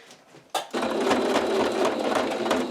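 Sewing machine stitching a simple vintage-style apron: after a quiet moment, the motor starts abruptly and runs in a steady, close, rapid whirring rattle.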